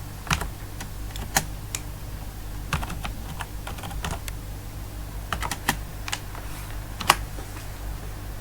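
Someone types on a computer keyboard while searching for PNG images, producing quick irregular bursts of close key clicks over a steady low hum, with no speech.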